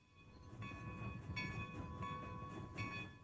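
A steam locomotive pulls a train out of the yard toward the main line, its steady rumbling chug joined by a sustained whistle tone that swells in several bursts over a continuous low mechanical roar.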